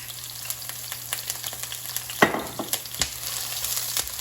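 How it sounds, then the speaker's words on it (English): Eggplant sautéing in oil in a frying pan, a steady close sizzle with scattered crackles and a sharper burst of spattering midway, no voices. "It will cook without oil as well because it's a frying pan"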